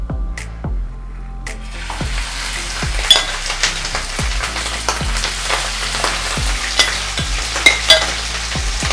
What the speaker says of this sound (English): Once your oil is hot, put in your meat.